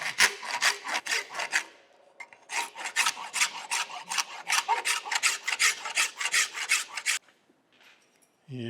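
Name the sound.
horseshoer's rasp file cutting soft Babbitt bearing metal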